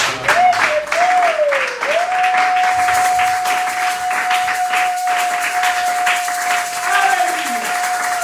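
A church congregation applauding and cheering during a Sunday service: steady, loud massed clapping throughout, with a sustained musical note and crowd voices carrying underneath.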